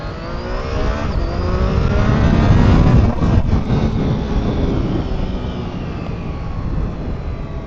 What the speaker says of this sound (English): This cheeky little 3-cylinder, it's really so incredibly lively.